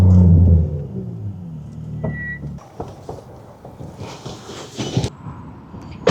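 A Ferrari F8 Tribute's 710-horsepower engine roars up close with heavy low rumble, then the note shifts as the car accelerates away, gear changes and revs rising.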